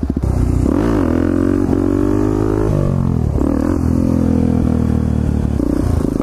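A pit bike engine revving hard and continuously while being ridden, loud and close throughout, the pitch rising and falling with throttle changes and gear shifts.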